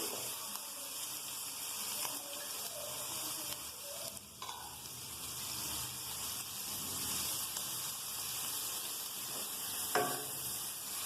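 Long slices of carrot, about two cups, frying lightly in a pan for an elbow macaroni dish, giving a steady soft sizzle with faint stirring scrapes throughout.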